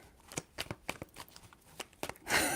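Tarot cards are shuffled by hand in a quiet room: a series of crisp, close riffling snaps at irregular intervals, ending in a longer, louder bridging riffle.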